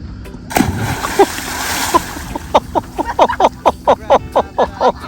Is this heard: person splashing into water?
yes